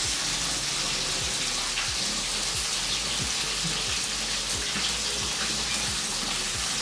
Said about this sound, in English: So I'm gonna strain the rice, just taking the water out.